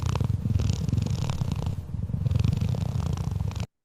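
AI-generated cat purring: a close, steady, rhythmic low purr in pulsing waves, continuous for a few seconds before cutting off abruptly.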